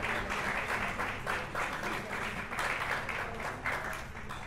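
A dinner audience at a five-year anniversary celebration in Peoria on July 4 claps loudly and continuously, dense applause swelling in waves with no pauses.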